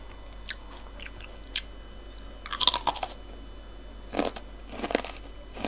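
Someone chews crispy baked vegetables, producing scattered sharp crunches and bites in short clusters, close and fairly quiet against a soft background, with no speech.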